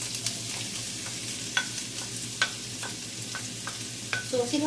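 Ginger and onion stir-fried with seafood in a pan give a steady low sizzle, broken by sharp scrapes and clinks of a utensil every half second or so, with a busier clatter at the end.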